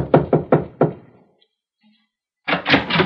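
Knocking on a door in an old radio drama: four firm raps, a short pause of near silence, then two or three more knocks, close and clear with no talk.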